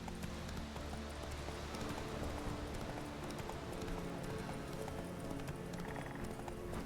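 A video-game horse named Roach trots along, its hooves clip-clopping in a faint, steady, even rhythm over a quiet ambient game background.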